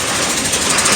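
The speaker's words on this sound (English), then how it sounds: "There goes the bus." A bus passes on a city street at night, its engine a loud, steady, close roar that fills the moment with broadband rumble and no voices.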